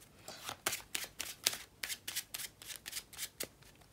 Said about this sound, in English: have them return the card to the deck and also give it a shuffle